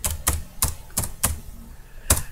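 Keys on a computer keyboard clack in a short, uneven burst of about six sharp strokes, several close together and then a pause before a final one, close and fairly loud with no talk.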